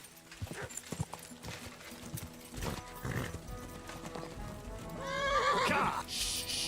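Horse in the medieval game Kingdom Come Deliverance II, its hooves clopping at a steady walking pace before a loud, close, quavering neigh near the end.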